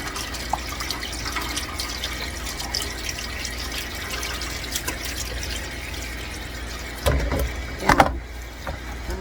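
Cold tap water runs steadily over food in a kitchen sink during pork egg roll prep, a soft continuous splash with a couple of louder bursts near the end.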